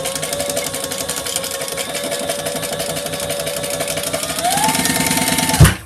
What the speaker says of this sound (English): we got to sew the lining